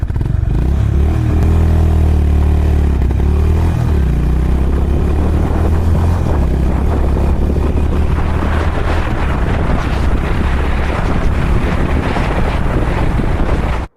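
A Honda Hyness CB350 motorcycle accelerates hard from a standstill toward 100, its engine note climbing through several gear changes under loud, constant wind buffeting across the microphone.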